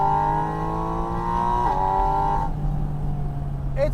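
A Porsche engine revs steadily at close range, its droning tone rising and then dropping as the revs shift partway through, continuing at a lower hum.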